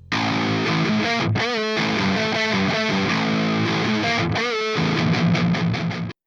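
A distorted electric guitar in coil split mode with a thinner, brighter tone plays chunky riffs with short pauses, loud and close, then cuts off abruptly.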